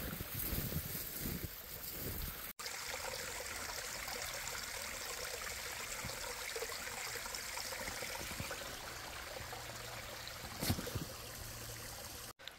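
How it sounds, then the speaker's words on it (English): A waterfall along a forest stream by the Connecticut River roars as a dense, steady rush of water that fills the whole stretch, near and unbroken, with no voices. "Waterfalls."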